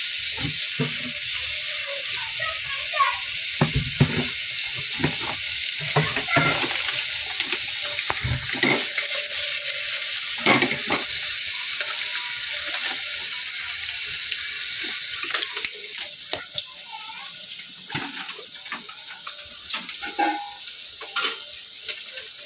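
Onion frying in oil in a home kitchen pan while being stirred: a steady, bright sizzle runs throughout, with intermittent scraping and clinks of the spoon against the pan.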